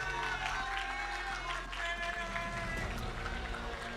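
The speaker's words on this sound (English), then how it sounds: "Everybody give them a round of applause." An audience at the Texas high school state championships, an esports Fortnite final, gives a round of applause: a steady wash of clapping and crowd noise with voices mixed in.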